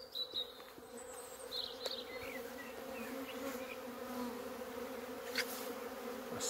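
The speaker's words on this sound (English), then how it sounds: "A strong swarm of honeybees." A strong swarm of honeybees buzzing steadily outdoors near a homestead, a dense continuous hum with individual bees passing close now and then.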